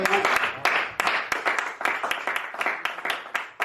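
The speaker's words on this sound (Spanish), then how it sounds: "¿Alguien le puede dar un aplauso a Dios?" A church congregation claps during a Christian sermon, producing loud, sharp, fairly rhythmic hand claps close by with no talk over them.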